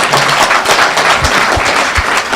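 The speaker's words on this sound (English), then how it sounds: "Give me and the girls a hand of applause." Short burst of audience applause at the end of a session, dense loud clapping from a crowd lasting a couple of seconds.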